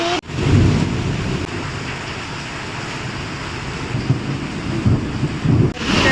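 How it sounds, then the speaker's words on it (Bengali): Steady, heavy evening rain pours down continuously, a dense roar of drops close by with a few louder bursts. "প্রচুর বৃষ্টি হইতাছে, প্রচুর বৃষ্টি।"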